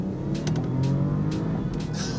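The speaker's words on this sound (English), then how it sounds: "I'm going to try a little 0 to 60 sprint." A 2021 Porsche Panamera Sport Turismo launching from 0 to 60, heard from inside as a steady, loud engine drone with a rising tone and some tyre and road noise.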